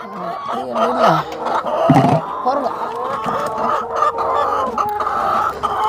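Chickens on a Jaffna poultry farm cluck and cackle close by in busy overlapping bursts, with several birds calling at once throughout.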